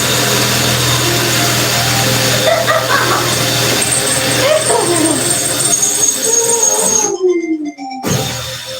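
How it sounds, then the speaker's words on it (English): A loud, high-pitched drill whines continuously against a steady low hum as it bores holes in cement, with grinding and squealing bursts before the noise abruptly cuts out near the end. "let's drill some holes in some cement"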